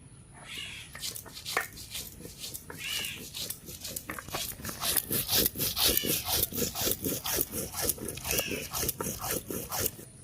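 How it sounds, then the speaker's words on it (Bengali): Cumin and dried red chillies are ground into a paste by hand on a grinding stone in a kitchen. Repeated rhythmic rubbing and scraping strokes go on throughout, growing louder and more regular midway, with faint voices in the background. "কাঁচা জিরার ভিতরে কয়েকটা আমি শুকনো লঙ্কা দিয়ে দেবো, এটাও আমি বেটে নেব"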